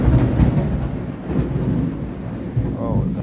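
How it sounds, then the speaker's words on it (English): Heavy thunderstorm rolling over a house, with a deep, continuous thunder rumble and steady rain wash throughout; a brief voice comes in near the end. "waiting for the rain to stop and thunderstorm"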